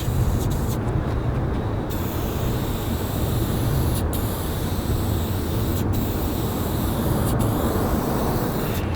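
A spray paint can sprays Flame Orange paint in one continuous hiss lasting several seconds, close and loud, broken only by a few brief pauses, with no voices.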